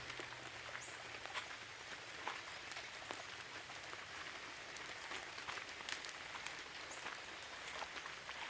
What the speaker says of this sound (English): Well, we need the rain.